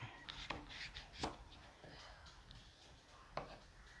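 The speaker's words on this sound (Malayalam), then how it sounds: "ഇനി നമുക്കിത് ചെറുതായിട്ട് ഞുറുക്കിയെടുക്കാം" Peeled raw papaya chopped into small pieces with a knife, faint scattered knife taps on a board at an uneven pace.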